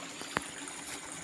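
An upstream river runs steadily, a soft continuous wash of flowing water with one brief splash near the start, faint and with no voices.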